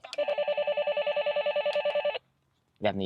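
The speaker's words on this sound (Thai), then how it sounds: "ได้แล้วก็มีเสียงเรียกเข้าด้วยแบบนี้" A toy walkie-talkie, battery-powered, rings with a rapid, pulsing electronic incoming-call ringtone for about two seconds, then stops; after a pause a short burst of sound follows.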